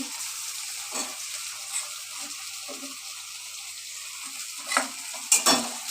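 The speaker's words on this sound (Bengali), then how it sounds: "আলু পটলগুলো ভেজে রেখেছি সেগুলো দিয়ে দিচ্ছি এবার একটু নাড়াচাড়া করছি তেলের মধ্যে" Fried potatoes and pointed gourd stirred around in oil, a faint low sizzle broken by a few soft scrapes and clinks, with a sharper knock near the end.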